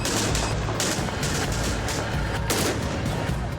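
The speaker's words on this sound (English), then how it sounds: "It's a vicious firefight." Heavy gunfire from a firefight with AK-47s, machine guns and mortars: dense, overlapping bursts of shots crackle and boom continuously, loud and close.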